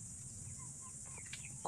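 Hens cluck faintly and briefly in the distance over a steady insect drone, with a few soft calls and one slightly louder cluck at the end.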